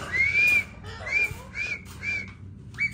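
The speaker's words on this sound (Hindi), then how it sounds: "अभी देखना मैं सीटी मारूंगा ना" A person whistles a series of short rising tones, five or so brief notes in a loose rhythm, fairly close and clear, with a pet turkey nearby and no talk over it.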